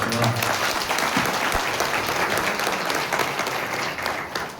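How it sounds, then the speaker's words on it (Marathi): An audience at a kirtan applauds a pakhawaj player, dense sustained clapping from a large crowd that carries on for several seconds and fades slightly near the end, with a voice faintly beneath it. "जर तुमचं प्रेम त्यांच्यावर असेल तर एक बार टाळ्या वाजवल्या"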